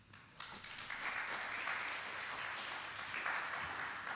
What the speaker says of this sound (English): And the crowd roared.